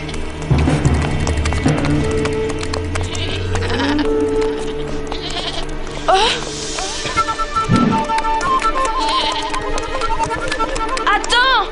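A herd of goats bleats repeatedly as they run in a French-dubbed Yakari cartoon scene, loud and close over a busy musical backdrop, with calls overlapping and some French voices urging them on.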